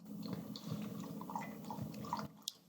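A dog lapping water, soft wet slurping and dripping repeated in quick succession at close range, fairly quiet, with no talking.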